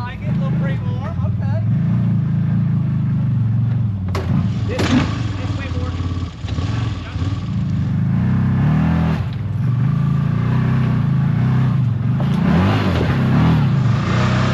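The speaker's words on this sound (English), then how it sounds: "he's warming up his tires" Polaris RZR XP Turbo or CFMOTO Z-Force 950 HO EX off-road UTV engine revving on a trail at Cadillac Hill while the driver warms up the tires, a steady close engine drone with rising revs under people talking.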